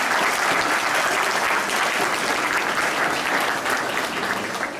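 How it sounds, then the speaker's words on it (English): Sustained applause from a graduation audience for the class of 2018 at a French immersion school, a dense, even wash of many hands clapping with no break. "Give yourselves a round of applause."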